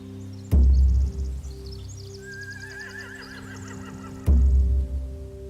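Horses neighing in The Walking Dead Final Season video game, two loud, close whinnies with heavy thumps at their onsets, separated by a quieter stretch of faint snorting and wavering calls.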